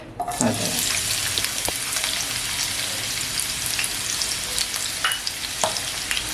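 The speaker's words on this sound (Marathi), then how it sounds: "आता तेलामध्ये ना कांदा टाकते" Chopped onion frying in hot oil in a pan while a squid masala is prepared, giving a steady, close, continuous sizzle and crackle throughout with no talking.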